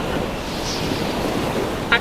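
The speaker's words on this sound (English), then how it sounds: "We're riding these waves right now." Ocean waves in the video game Stormworks wash in a continuous loud surge with wind noise, a steady rushing wall of sea sound from a cargo ship setting, with a brief sharp blip near the end.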